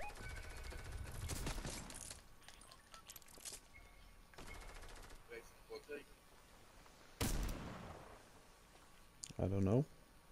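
Gunfire in the Fortnite battle royale game: scattered loud bursts and single cracks ring out across the match, some close and sharp, others fainter and farther off.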